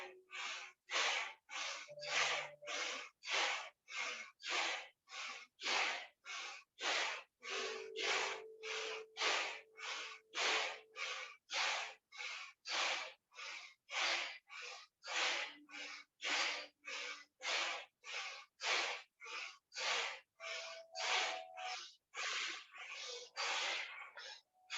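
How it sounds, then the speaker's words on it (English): Rapid, forceful breathing exercise: about forty sharp, evenly paced inhale-exhale pulses, close and loud, in a steady unbroken rhythm with no talking. "Forceful inhales, forceful exhales."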